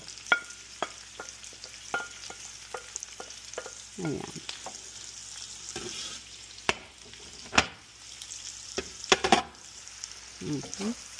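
Onions sizzling in a hot pan while preparing blue crabs, a continuous hiss with spoon stirring and scraping knocks, and a voice speaking briefly at moments.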